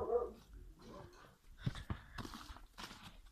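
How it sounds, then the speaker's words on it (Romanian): Several farm dogs bark outdoors in short scattered bursts mixed with whimpers and rustling, moderately close but fairly quiet, with no clear speech. "uitați, toți câinii mei."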